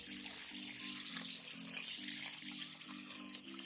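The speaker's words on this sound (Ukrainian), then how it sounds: "І тепер заливаю молочком" Milk poured into a pot of rice and pumpkin while making pumpkin porridge, a steady close liquid pour and splash running without a break through the whole clip.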